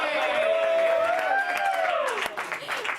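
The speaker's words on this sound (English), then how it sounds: "They're just clapping because they have to" Studio audience of a TV show clapping, a steady dense patter under a loud vocal sound that rises and falls in pitch, with talk mixed in.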